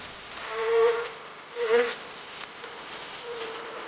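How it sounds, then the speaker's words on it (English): A dense, buzzing swarm of bees drones around a hive, the insect hum swelling in two louder surges before settling into a steady, close whine with no voices. "while thousands of furious bees swarmed around it"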